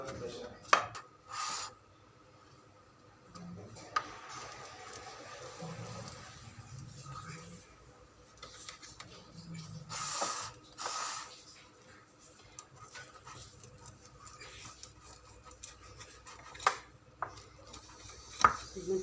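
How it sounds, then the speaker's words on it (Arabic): Knife cutting warm sesame halawa into pieces on a tray, with scattered knocks and scraping of the blade against the pan, fairly soft and intermittent, while someone talks at times. "قطعي بقى الحجم اللي انت عايزاه"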